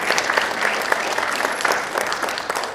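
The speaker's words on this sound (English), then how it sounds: "Y'all can give a round of applause for that." Applause rises from the audience at a mayor and council meeting honoring a student, a loud, close, steady patter of many hands clapping throughout, with no speech over it.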